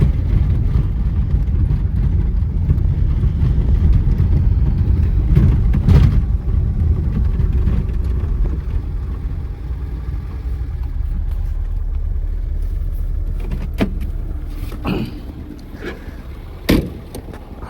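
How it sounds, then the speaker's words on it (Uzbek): A car's engine running at idle, a low steady rumble heard close, with a few brief knocks and clatters toward the end. "O'chib qolmaydi mana. Gider deb turibdi motori."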